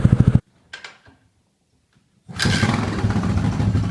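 A motorcycle with a repaired stator runs loudly and close, cuts out, gives a few faint sputters and clicks during a near-silent pause, then restarts and settles into a steady idle.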